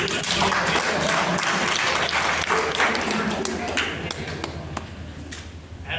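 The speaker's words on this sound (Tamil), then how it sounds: "ஒரு கைத்தட்டு" A seated audience at a Tamil speech event claps together, a continuous wash of hand claps with a few sharper individual claps standing out, fading slightly toward the end.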